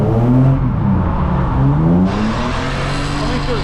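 A Ford Falcon fitted with new coil packs and spark plugs and low rear tyre pressure, heard from inside as it drives and accelerates, a loud steady engine drone with rising and shifting pitch, no talking.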